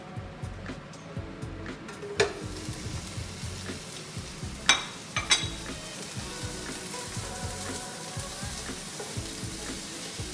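Onions fry in a pan in a home kitchen, a steady close sizzle broken by a few sharp clinks of a utensil against the pan as they are stirred, with no talking.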